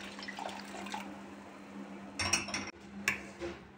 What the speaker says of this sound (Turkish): Ve suyumuzu koyuyoruz.